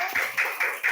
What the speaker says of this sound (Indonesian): Beri tepuk tangan untuk Isro,